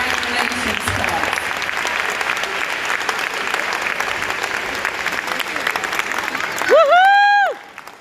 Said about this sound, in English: Can we give another round of applause for our candidates?